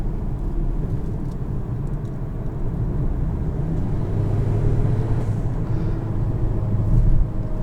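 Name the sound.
2022 Volvo XC40 T5 engine accelerating out of a corner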